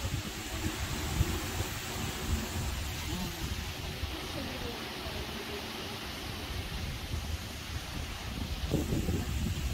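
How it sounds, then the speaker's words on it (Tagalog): Typhoon Enteng's strong wind and heavy rain make a rough, broadband roar that surges and buffets at the microphone, with rain hissing underneath and a person's voice partly heard in the storm. "Lakas ng hangin, guys."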